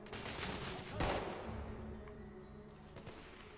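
Enemy gunfire in the video game The Order: 1886, a dense spread of faint overlapping shots within a busy battle soundscape, with one sharper report standing out early.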